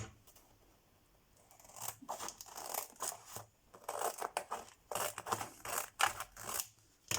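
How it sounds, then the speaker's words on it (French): Scissors snip through paper while cutting out a shape, bursts of close crisp cutting and rustling arriving in irregular runs with short pauses between. "alors je vais déjà le découper"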